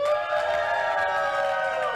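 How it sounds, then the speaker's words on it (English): A crowd cheering in the village square of East Troy, steady and loud for the full stretch, with massed voices blending into a sustained roar and no clear individual words. "One more cheer from East Troy."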